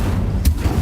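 An Incendio fire spell cast in Hogwarts Legacy, heard as a brief loud whooshing burst with a low boom over dense game background noise, lasting under a second.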